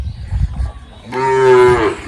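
A cow moos once, a loud drawn-out low call lasting under a second, preceded by faint rustling and background noise.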